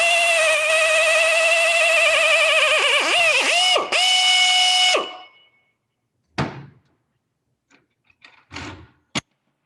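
A drill whines at high pitch, its tone dipping as it bites into and nearly goes through metal, then stops; a few short clunks and knocks follow.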